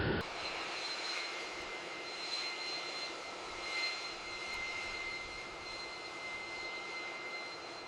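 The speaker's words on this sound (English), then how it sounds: "The hijacked plane climbs out of the sky and touches down in Tel Aviv" A hijacked jet airliner lands at Lod Airport in Tel Aviv, Israel, its engines giving a steady, moderately distant roar topped by thin, high whining tones that hold throughout.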